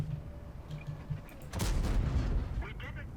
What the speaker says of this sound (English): One quick shot into him, no penetration.